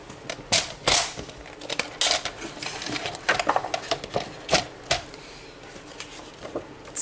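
Card stock being cut for a card box gives a rapid run of dry clicks and snips, close and irregular, with short bursts and pauses.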